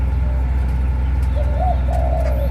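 A newly hatched bird chick calls angrily, two short wavering cries in quick succession late in the moment, close and clear over a constant low hum.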